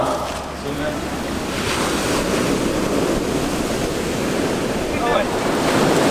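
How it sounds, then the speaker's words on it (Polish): Sea waves breaking on a beach, a steady close roar of surf with wind buffeting the microphone throughout, faint voices in the background. "Wskakujesz z nami do morza, Paweł?"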